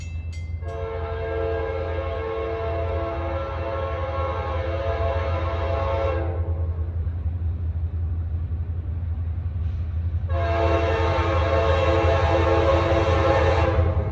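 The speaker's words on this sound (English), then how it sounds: "Here comes the train." A Norfolk Southern storage car train rolls past on a super-elevated curve with a steady rumble underneath, sounding two long blasts of its horn, the second beginning after a short gap.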